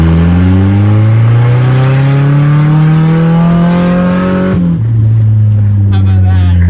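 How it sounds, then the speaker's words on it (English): Honda Civic engine revving loudly and close with a modified header exhaust, a steady climbing drone that rises over about four seconds, drops sharply as the revs fall, then holds a lower roar. "We're gonna rev up the car"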